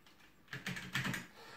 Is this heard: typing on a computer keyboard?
yes